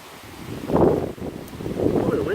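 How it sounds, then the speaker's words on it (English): Wind gusts across a riverbank, buffeting the microphone in two low, rumbling surges with a rustle in between, close and fairly loud, with no clear speech. "Oh, the wind's blowing."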